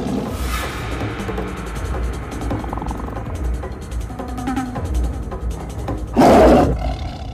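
Tiger roar from an action film, a single loud, rough burst late in the passage over quieter background sounds.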